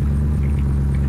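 A car in the video game Unturned drives into town, giving a steady, loud, low engine rumble that runs unbroken throughout with no voices.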